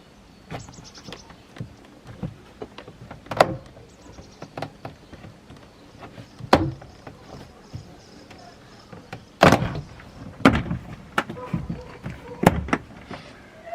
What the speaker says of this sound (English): what's keeping the door card on the door is a bunch of clips around the perimeter, so we just need to pry it away.